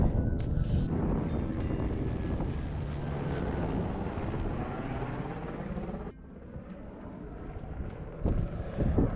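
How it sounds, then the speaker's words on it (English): A helicopter drones steadily in the distance over the Everest Base Camp trek, with wind rushing across the microphone, the rumble dropping briefly before swelling again. "Helicopter."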